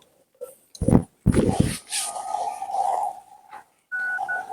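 Telephone keypad tones ring out as a number is punched in on a phone, a few clear beeps amid shuffling noises near the end of the sequence.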